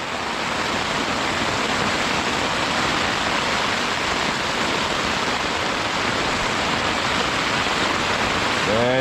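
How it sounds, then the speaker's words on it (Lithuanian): Heavy rain beats on a tent at night, making a loud, dense, unbroken roar of drumming on the fabric that stays constant throughout. "Taip lyja, kad net palapinę laužo."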